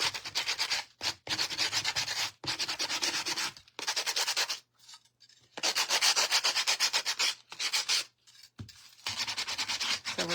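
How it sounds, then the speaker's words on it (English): A sanding block rubs along the crackle-finished edges and frame of a canvas sign in repeated rough strokes, close and fairly loud, broken by short pauses. "sanding here, our sanding block again."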